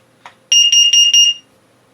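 A loud, shrill carbon monoxide alarm beeps rapidly in a short burst of about four pulses after a faint click, close by, reaching about 99.9 decibels.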